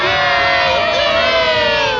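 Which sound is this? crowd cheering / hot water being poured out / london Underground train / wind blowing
crowd cheering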